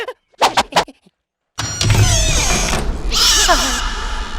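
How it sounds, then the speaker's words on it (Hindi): A cat in a horror film scene set in a haunted mansion gives a few short, wavering meows, then a loud, dense burst of eerie, shrill sound takes over for the rest. "ये बिल्ली की आवाज है या किसी चुड़ैल की आवाज है?"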